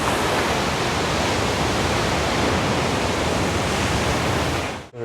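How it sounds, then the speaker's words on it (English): Big Indian Ocean waves crash onto a black, rocky lava coast, a loud, continuous roar of surf and spray that holds steady throughout and cuts off abruptly at the end. "waves crashing onto a black, rocky lava coast"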